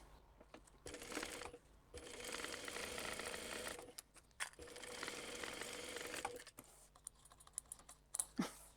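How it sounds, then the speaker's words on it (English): A domestic sewing machine runs in two bursts of fast, even stitching down the sides of a crossbody bag, with short pauses and fabric handling and small clicks between runs. "we want to stitch down each side of those, again at the allotted seam allowance"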